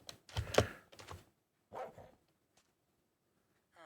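A dog in the video game Minecraft barks a few short, sharp times near the start, then again once, fairly faint, with a light clicking like keys in the gaps.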